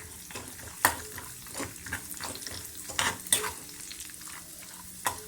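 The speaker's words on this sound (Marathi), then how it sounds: "शेंगदाणे घालायचे आहेत सर्व भाजून घ्यायचे चांगले" Peanuts roasting in a pan with curry leaves, asafoetida and turmeric for dadpe pohe, a steady close sizzle broken by several sharp scrapes and clinks of a spoon stirring against the pan.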